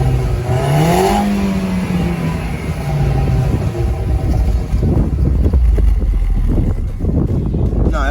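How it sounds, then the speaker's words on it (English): A modified Audi A4 with a 1.8T engine and catless downpipe drives past outdoors, its exhaust rising and falling over heavy wind noise on the microphone, with engine rumble building toward the end. "I want to get some flybys for you guys so you guys can really hear it outside of the car."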